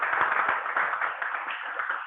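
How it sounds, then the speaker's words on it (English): An audience at a Toastmasters club meeting applauds steadily with a dense, even patter of clapping that continues for about two seconds at moderate, slightly distant loudness. "Can we please welcome her with a round of applause?"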